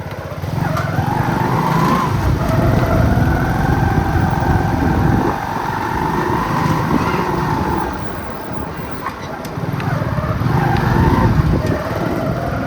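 A motorcycle ridden along a road: a loud, steady engine drone with wind rumble, easing slightly midway before rising again, heard close throughout with voices talking over it.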